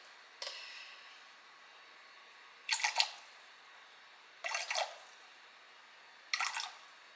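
Filtered water sloshes around in a bowl resting on a kitchen scale, with four short splashy bursts spaced a couple of seconds apart against a quiet background hiss.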